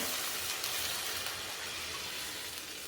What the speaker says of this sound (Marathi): ज्या बाउलने आपण बोटवे घेतले होते त्या बाउलने मी इथे पाणी टाकत आहे